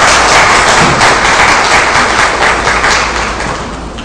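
A large audience applauding steadily and loudly at a church service, a dense wash of clapping that holds throughout and gently fades toward the end.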